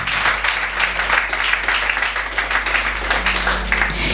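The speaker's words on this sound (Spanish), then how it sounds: "Denle un aplauso al Señor porque es hermoso" A congregation at a sermon gives a steady round of applause, many hands clapping in a continuous dense patter over a low room hum, lasting several seconds.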